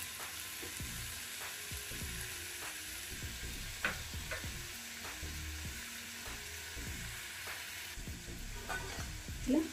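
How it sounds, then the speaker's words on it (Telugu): Chopped bottle gourd simmers in a pan with water for kheer, a soft steady bubbling sizzle with light clicks and pops, faint and close, and no one talking. "ఈ సొరకాయ అంతా కూడా సాఫ్ట్గా అయ్యే వరకు ఉడికించుకోవాలి"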